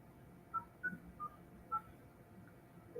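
A telephone dials out to place a call. Several short, distinct dialing tones sound one after another against a quiet background, with no voices.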